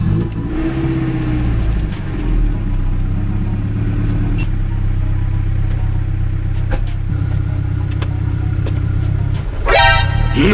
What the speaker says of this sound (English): we're gonna start it up and close the hood and go for the first drive.